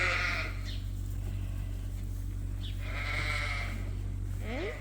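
A ewe on a sheep farm gives several wavering bleats in a row, heard close and fairly loud over a low steady hum, with brief pauses between the calls.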